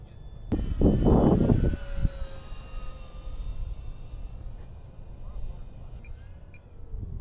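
A light aircraft climbs away from a small airfield with its landing gear retracting, a loud engine roar at first settling into a steady drone, with a short whine overhead.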